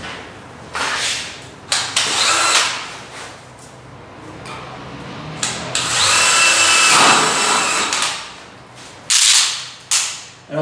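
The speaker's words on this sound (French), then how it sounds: "Donc je vais percer le sol et je vais mettre des chevilles à frappe." Power drill boring 6 mm holes into a floor for hammer-in anchors during a soundproof plasterboard partition build, several loud drilling bursts of a few seconds each separated by short pauses.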